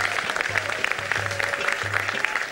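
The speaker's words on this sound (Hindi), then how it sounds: "इन सब के लिए ढेर सारी तालियां" A studio audience on a morning TV show claps steadily in dense, continuous applause, with a low musical hum running underneath.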